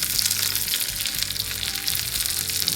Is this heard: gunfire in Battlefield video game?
no